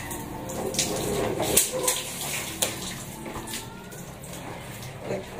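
Running water pouring steadily into a container, a continuous splashing rush with occasional clinks and knocks, close by.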